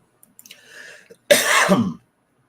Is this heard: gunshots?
no